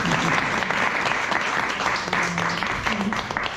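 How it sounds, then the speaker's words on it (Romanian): An audience at an evening talk at a Roma cultural centre breaks into brisk, loud applause, a dense rapid patter of clapping with some voices mixed in throughout. "Vă să aplaudați pe el"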